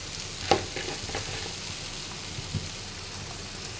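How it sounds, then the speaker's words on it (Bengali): Bitter gourd frying in oil with onion and chili, giving a steady soft sizzle with a couple of faint clinks of a utensil, no voices. "এখন এটাকে একটু সুন্দর করে সময় নিয়ে ভাজবো"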